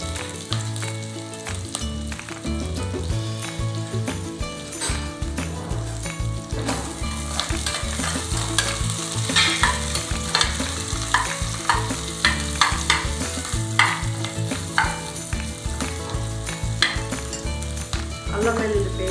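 Cashew nuts sizzle in hot oil with onions and green chillies for spicy dhaba-style tomato rice, a loud steady frying crackle broken by frequent stirring scrapes and clinks of a utensil against the pan.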